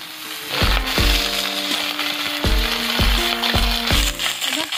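Vegetables and flat beans frying in oil for vegetarian bhog khichuri, a loud close sizzle broken by repeated clanking strokes of a spoon stirring against the pot, no talk.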